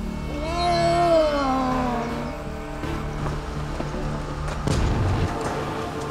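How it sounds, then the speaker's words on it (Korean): Several cats meow and yowl on Geomundo island after being caught in traps, a series of rising, wavering cries close by, followed by rustling and a burst of clattering noise near the end. "고양이는 속속 포획망에 걸려들었다"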